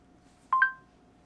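Two short DTMF dialing tones, one right after the other, from a RealSAM Pocket smartphone, quiet and clean over a faint steady hum.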